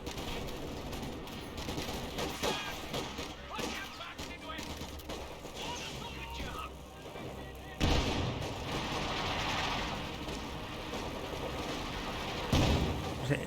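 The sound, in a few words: pack howitzer artillery barrage in Company of Heroes video game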